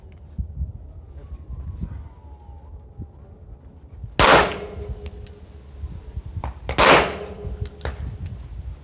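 Two sharp, loud pistol shots from a handgun fitted with a red dot sight, spaced a few seconds apart during target sighting-in, with quiet background and faint handling noise between them.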